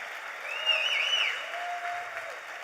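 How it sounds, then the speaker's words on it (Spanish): A church congregation breaks into a short burst of clapping, heard at a moderate distance with a faint whistle or cheer riding over it. "Si alguien lo cree conmigo, levante un aplauso al Señor."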